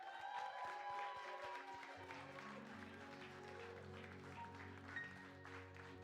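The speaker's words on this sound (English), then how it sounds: "Big round of applause, please." An audience applauds a gospel choir in a studio radio theater, clapping heard over sustained tonal music and a low hum, with the applause fairly steady and moderately loud throughout.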